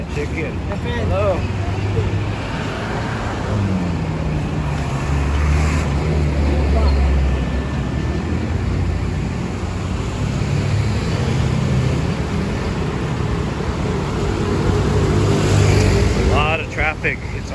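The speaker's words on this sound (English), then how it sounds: "Traffic." Dense rush-hour road traffic on a Cebu City street in the Philippines, a steady loud wash of engines and tires rolling past at close range, continuous throughout without talk.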